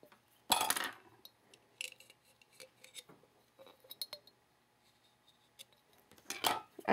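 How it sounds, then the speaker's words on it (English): A metal letter opener scrapes and taps inside a glass craft piece, with faint intermittent clinks and scratches and two louder, sharper scrapes near the start and end. "This is my little letter opener."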